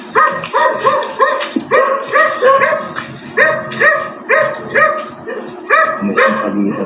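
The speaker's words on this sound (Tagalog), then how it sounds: "Baka aso lang." A dog barks repeatedly in a steady rhythmic series of sharp, loud barks, close by, with occasional higher yips mixed in and no talking over it.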